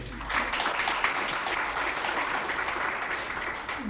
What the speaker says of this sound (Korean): 우리 고생했던 박수 한번 쳐주십시오